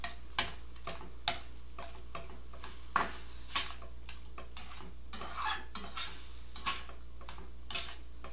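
Tofu scramble stirred in a pan as butter melts in, with sparse spoon taps and clicks over a faint, low sizzle and a steady background hum.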